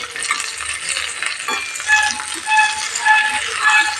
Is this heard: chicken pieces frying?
yes